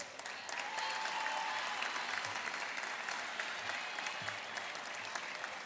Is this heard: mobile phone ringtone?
no